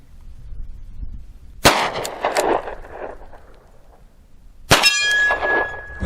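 Two sharp .38 Special shots from a Rock Island revolver crack a few seconds apart outdoors, each followed by a bright metallic ring from a steel target that lingers and fades.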